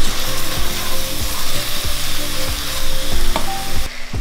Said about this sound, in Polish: Dusimy to na małym ogniu.